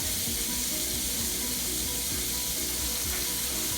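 Bell pepper and onion fry in a hot pan for Jamaican-style shrimp and grits, a dense, continuous sizzle with faint stirring scrapes, close and even, with no voices.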